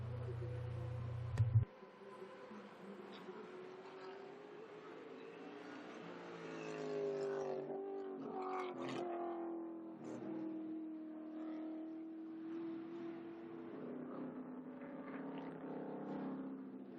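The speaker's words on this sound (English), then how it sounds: "Just a beautiful sight to see these cars still racing up here at Lime Rock." Vintage race cars run at the Lime Rock track, engines droning and rising in pitch as they pass at a distance, with a commentator's voice over the top.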